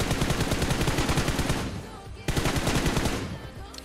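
Rapid automatic gunfire from a first-person shooter video game, loud and dense in continuous bursts with a brief dip midway before the firing resumes.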